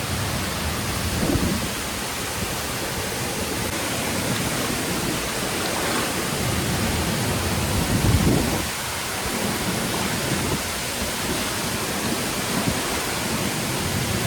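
Jujjar Waterfall in Karsog Valley, Himachal Pradesh, gives a loud, continuous roar of falling water, a dense, steady wash heard close with no pauses.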